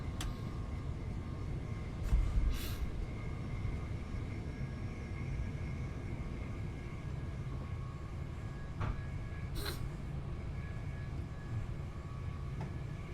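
A train running through the Train Sim World 2 game, passing Redhill and Reigate toward Horley, heard as a steady low rumble and rolling drone with a couple of brief rattles and clanks.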